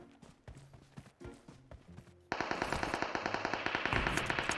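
Gunfire from the mobile battle royale game PUBG Mobile. Soft thumping footsteps come first, then a loud sustained burst of rapid automatic shots with no one speaking.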